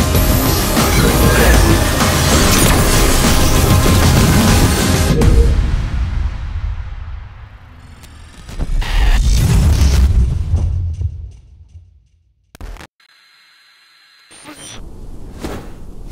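Heavy booming blasts from a maximum-output weapon in the game Destiny Child: a long roaring barrage, then a short gap, then several sharp bursts and whooshes, loud and close, with no talk over them.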